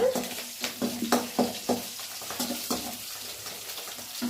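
Onion and tomato sautéing in a pan for upma: a close, soft sizzle under rhythmic spatula scrapes and taps that come every half second or so, then ease off.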